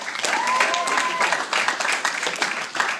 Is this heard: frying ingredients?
no